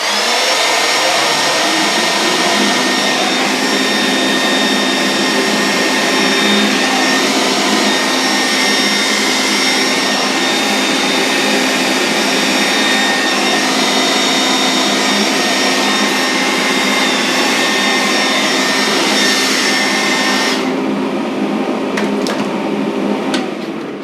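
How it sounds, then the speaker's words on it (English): Hair dryer blowing steadily on transparent paint coated over a model kit figure, a constant loud whirring roar with a high motor whine that runs unbroken for about twenty seconds before the pitch shifts near the end. "it's just a matter of hitting it with a transparency and then blow drying it a little bit"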